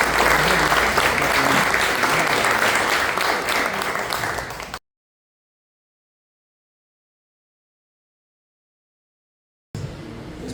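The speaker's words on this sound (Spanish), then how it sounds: "Un aplauso para el profe de hoy, por favor" An audience claps for a guest teacher at a rock venue talk, dense loud applause lasting several seconds before a cut to silence, then a brief return of clapping at the end.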